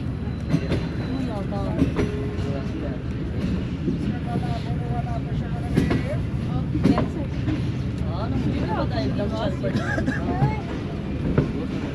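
Subak Raftar railcar rolling out of Gujar Khan station, a steady rumbling run with wind noise and faint rhythmic wheel clatter throughout.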